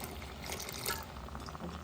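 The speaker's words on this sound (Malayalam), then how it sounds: "ഇനി നമുക്ക് കുറച്ച് പാലൊന്ന് ഒഴിച്ചു കൊടുക്കാം." Milk is poured into a pot of semiya payasam on the stove, a soft, steady liquid pour with a gentle trickle, quiet and close.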